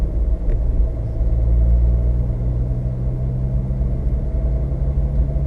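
A VW Move Up climbing a small urban hill under acceleration, its engine giving a steady, close, low rumble inside the cabin with no talk.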